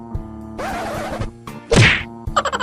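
A chair gives way with a sharp, loud crack and a smashing crunch as a woman seated on it leans back slightly; one brief break stands out over a steady background hum, followed by rattling bits.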